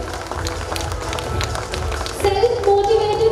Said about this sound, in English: Your parents, please encourage the kids with a round of applause.